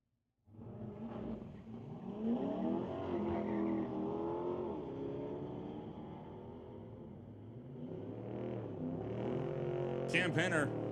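A Dodge Charger and a Corvette in a street-legal drag race at Mission Raceway Park, a sustained engine roar that climbs and shifts in pitch as the cars pull away, loud and continuous.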